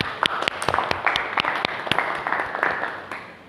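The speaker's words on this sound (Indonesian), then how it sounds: "tepuk tangan untuk kita semua" A classroom audience applauds presentation groups in an Islamic studies lesson, a steady burst of many hands clapping at close range that fades toward the end, with no voices over it.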